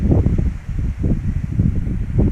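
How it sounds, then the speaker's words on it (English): Strong wind on high ground along the Long Trail buffets the microphone with a steady, loud low roar and gusty rumbling throughout, with no voices. "you can see how windy it is up there"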